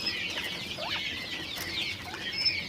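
Young bobwhite quail in a coop give soft, high chirps and brief calls over a steady background hiss, fairly faint and with no voices.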